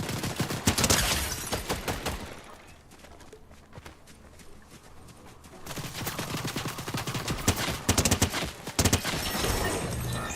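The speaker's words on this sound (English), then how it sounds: "They're shooting at me." Rapid bursts of automatic gunfire crackle in a Fortnite match, loud volleys at the start, a quieter stretch with faint movement sounds, then renewed dense shooting near the end.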